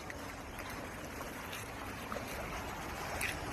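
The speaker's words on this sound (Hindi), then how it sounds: "ये देखिए, पानी टकरा रहा है यहाँ पे।" Floodwater rushing against a village bridge in Sumrakheda, a steady broad wash of flowing water with continuous turbulent noise, no voices.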